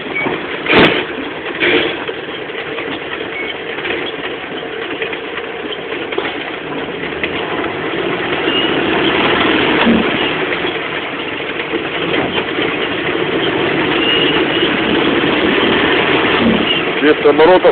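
A car engine idles with a steady low rumble that grows slightly louder partway through, running under occasional talk throughout.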